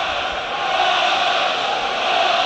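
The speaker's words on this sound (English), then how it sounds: "The home crowd turn up the noise" Loud, steady roar of the home crowd at an Arsenal versus Liverpool Premier League football match, a dense continuous wash of voices swelling slightly without any clear individual words.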